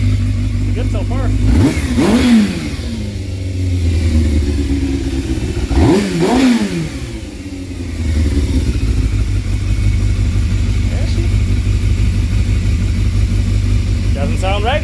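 Yamaha YZF600R engine with a new exhaust header revving up twice in sharp rising bursts, then settling into a steady, even idle, loud and close.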